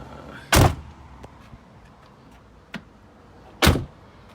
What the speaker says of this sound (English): So I just shut the door.